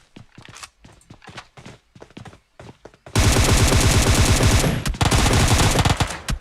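A video game gunfight in a competitive squad scrim: quick distant footsteps and shots at first, then loud, sustained rapid automatic gunfire with dense bursts that carries on for several seconds.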